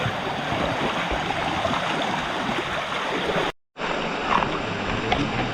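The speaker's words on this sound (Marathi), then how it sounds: "पाऊस जोरदार चालू होत आहे" Heavy night rain and a flowing stream in the Konkan hills of the Sahyadri make a dense, continuous rushing hiss. It cuts out for a moment and then resumes at the same strength.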